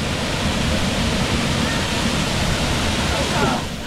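A waterfall at a hot spring in Guatemala pours with a loud, continuous broadband roar, heard up close and unchanging, tapering slightly at the very end.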